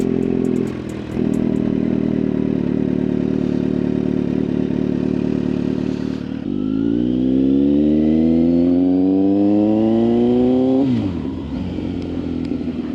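A Kawasaki Z900 motorcycle with airbox removed and a Leo Vince exhaust idles with a deep burbling exhaust, then revs up in a long rising pull before dropping back to a rumbling idle.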